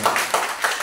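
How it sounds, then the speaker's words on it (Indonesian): A small group at an ice-breaking game claps together, with a few quick, close bursts of hand claps in under a second. "tepuk tangan untuk kita semua"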